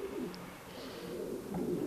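Soft, low cooing from a Hungarian breed pigeon, a gentle murmuring call repeated a couple of times at close range in a quiet setting, with no talking over it.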